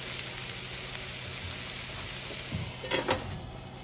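Chicken curry cooks in a covered pan with a steady, soft sizzling hiss throughout, joined near the end by a few brief clinks and knocks.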